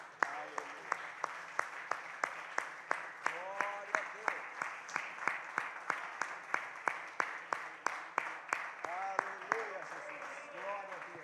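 A congregation at a church congress applauds for Jesus, a steady rhythmic clapping in unison that carries on for over ten seconds, with voices calling out and singing faintly beneath the claps.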